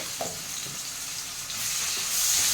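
Ginger garlic paste frying in a pan at home: a steady hissing sizzle with faint scraping as it is stirred, close and fairly loud, growing slightly louder toward the end.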